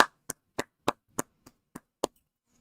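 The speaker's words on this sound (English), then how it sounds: "So give yourselves a round of applause for that." Sharp, isolated claps ring out one by one at a steady beat, eight distinct close hits with silence between them, a lone person applauding rather than a crowd.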